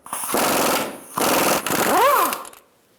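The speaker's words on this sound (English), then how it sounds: "Using a 21mm socket and my air gun, I'm going to take this bottom nut off the" An air impact gun with a 21mm socket spins the bottom nut off a ball joint on a 2000-2007 Ford Taurus front suspension. It gives three loud, close rattling bursts, the last ending in a rising and falling whine before it cuts off.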